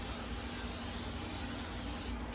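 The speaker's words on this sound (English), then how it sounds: "spray some non-stick spray on our loaf pans" Non-stick cooking spray hissing from an aerosol can onto loaf pans, a continuous close, steady spray lasting a couple of seconds before a brief cutoff.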